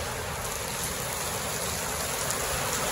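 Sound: heavy rain falling on a festival pandal

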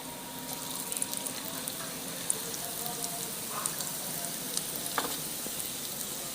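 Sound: fish roe pakoras frying in oil

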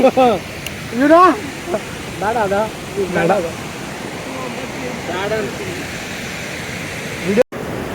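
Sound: fast-flowing water near a waterfall

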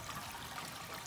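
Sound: pump running water flow through duck pond filtration

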